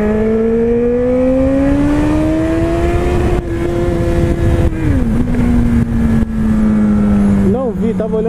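A Honda CB1000R engine pulls hard in first gear, its note climbing steadily in pitch, levelling off, then dipping, close and loud with wind rush behind it.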